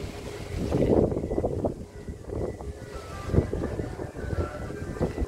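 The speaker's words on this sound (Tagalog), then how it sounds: "Huwag nyo nang pansinin ang ugong ng hangin." Strong wind buffets a rooftop overlooking the harbor in Hong Kong, roaring in loud, uneven gusts against the microphone with a low rumble throughout and no voices.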